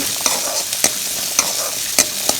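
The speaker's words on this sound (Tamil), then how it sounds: "அதனால் வெங்காயத்தை வதக்கிட்டு" Onions sautéing in a hot pan for ash gourd sambar, a steady close sizzle punctuated by about six sharp scrapes of a spoon stirring at irregular intervals, with no talking.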